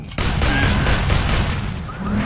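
Slow-motion gunfire from the video game Sleeping Dogs: a loud, continuous stretched barrage of booming shots with a smeared, drawn-out texture, filling the whole moment without a break.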